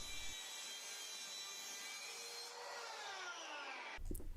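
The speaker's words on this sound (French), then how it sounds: "je vais couper une planche de l'épaisseur qui me manque" Thin 5 mm plywood board cut with a power saw, a loud continuous whine and rasp held close for about four seconds before the blade stops abruptly near the end.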